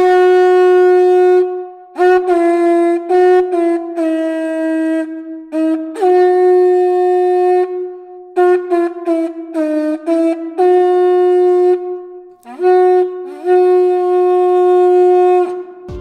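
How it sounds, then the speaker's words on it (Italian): A loud, sustained horn-like tone blown in several long blasts with brief breaks, steady pitch and rich overtones, heard alone without talking. "Questo invece è il suono della mia conchiglia."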